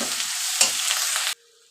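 Onion, ginger and garlic paste with cumin, coriander and green chilli is stir-fried in hot oil with a loud continuous sizzle and scraping stirs, then it cuts off abruptly into near silence.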